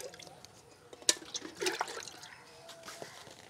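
Rice water mixed with water being poured onto vegetable plants in a home garden, giving soft splashing and trickling with a few sharper drips, mostly quiet and close.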